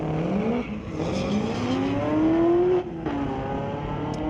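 Old Dodge, Chevy and Pontiac cars drag racing at Mission Raceway Park on a street legal night, a loud engine roaring with rising pitch as it accelerates, then cutting off near the end.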